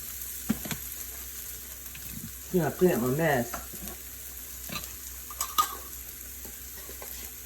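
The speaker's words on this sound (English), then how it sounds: "I'm getting my skillet really hot again, and then I'm going to add the pasta." Pasta for shrimp and chicken lo mein frying in a very hot skillet, a low steady sizzle with a louder burst of stirring and tossing midway, plus a few brief clanks; someone says a short phrase.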